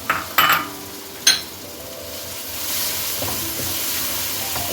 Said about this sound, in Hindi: इसको टमाटर के साथ थोड़ा सा भून लें